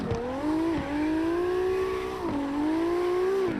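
A heavy drift car's engine screams on a drift course, a loud sustained high rev that climbs and dips with gear changes and throttle lifts, with faint tire noise underneath.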